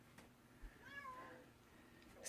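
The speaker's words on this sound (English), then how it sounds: "What are you meowing about, kitty?" A cat meows once, a drawn-out rising and falling call, moderately close against a quiet room with faint background hum.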